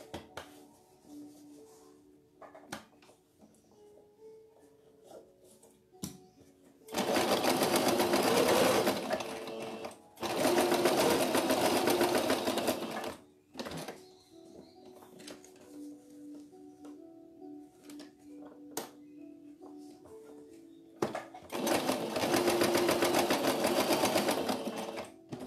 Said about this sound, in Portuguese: primeiro eu vou costurar os meus bracinhos